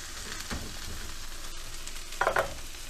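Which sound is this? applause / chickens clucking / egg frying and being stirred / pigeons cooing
egg frying and being stirred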